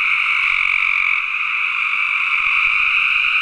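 A dense chorus of a couple thousand frogs at a big pond croaks steadily and loudly, a continuous outdoor drone with no voices.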